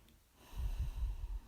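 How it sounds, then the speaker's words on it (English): Steady, deep breathing during a yoga strength session, close to the mic and fairly loud, in slow rhythmic pulses with no talking. "Breathing."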